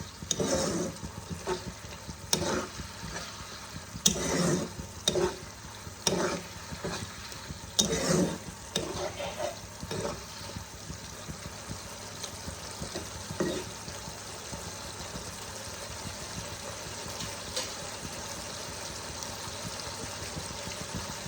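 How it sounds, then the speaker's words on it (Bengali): A masala of onion, tomato, ginger and garlic fries steadily in a pan for Ghugni, a continuous close sizzle broken by repeated scraping stirs early on, then settling into a quieter even frying hiss. "মশলাটাকে আমি ততক্ষণ কষাবো যতক্ষণ ভালোভাবে পেঁয়াজ, টমেটো, আদা রসুন থেকে কাঁচা গন্ধটা না চলে যায়।"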